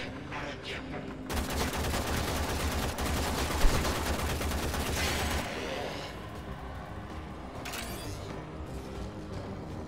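Gunfire in the Xbox One edition of Warframe is heard as a dense, continuous rattle of automatic shots that holds for several seconds. It then gives way to a quieter, steady background of game noise.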